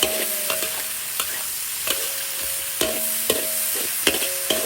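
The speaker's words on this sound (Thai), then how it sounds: "ผัดหมูให้สุกก่อนเสร็จแล้วเราจะตามด้วย มันนะคะใส่มันไป" Pork belly stir-fried in a pan with a tuber added, giving a steady sizzle with spatula scrapes and clinks landing every second or so, close up and with no talk.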